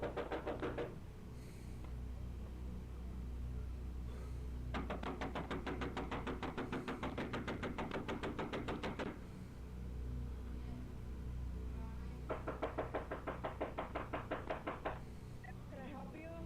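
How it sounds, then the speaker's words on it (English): Knocking on a house door, caught on doorbell camera footage: two long runs of rapid, loud repeated knocks separated by a pause, with a shorter burst near the end over steady low rumble. "I'm knocking on the door and nobody answering"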